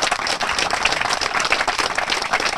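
An audience claps for a military commander from Krivolak at a public gathering, steady and dense applause sustained for a couple of seconds.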